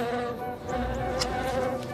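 A steady insect buzz drones on, close and moderately loud, with a faint higher whine drifting through.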